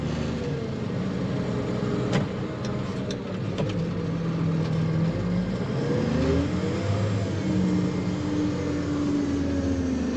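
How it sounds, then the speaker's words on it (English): A truck with a raised dump bed drives off at a pond construction site, its engine a steady mid-pitched rumble that rises and shifts as it pulls away, with a few faint clanks, no talking. "Kind of raise the bed up, drive off a little bit."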